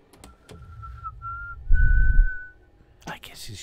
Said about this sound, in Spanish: Silbo también, ¿eh?